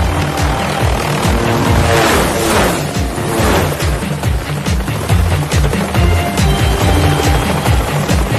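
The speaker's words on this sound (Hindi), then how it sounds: "हेलीकॉप्टर को स्लो कर दीजिए।" A cartoon helicopter flies past with a loud, steady rotor chop and engine drone. A brief crash-like burst sounds midway, and the noise stays dense throughout with no voices.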